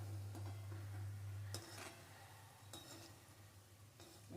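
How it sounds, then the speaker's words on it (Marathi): Shankarpali, layered diamond-shaped dough pieces, frying in hot oil over a low gas flame for Diwali, giving a steady soft sizzle with a low hum underneath and a few faint utensil scrapes and stirs. "मस्त ब्राऊन कलर येईपर्यंत तळायचे आहेत आपल्याला"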